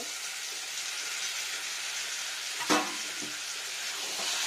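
Boiled potatoes stirred as they fry in a pan for a capsicum paneer dish: a steady, bright frying hiss throughout, with one brief scrape of the spatula near the middle.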